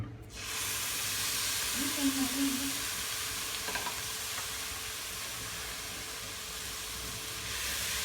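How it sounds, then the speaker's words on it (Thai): Homemade Thai curry paste of large dried chilies stir-fried in a pan, a steady loud sizzle and hiss running throughout with faint scraping of the spatula, no one speaking. "ใส่น้ำพริกแกงลงไปเลยนะครับ ผัดน้ำพริกแกงก่อน"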